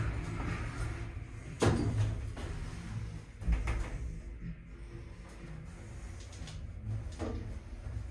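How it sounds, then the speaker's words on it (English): Glass doors on a single two-speed Oakland passenger lift, installed 2011, open and close with several soft sliding thumps and rumbles spread over a quiet, close background. "Got glass doors, single two speed."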